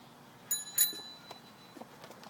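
A child's scooter bell gives two quick, bright rings close by, followed by faint rustling and light movement noise.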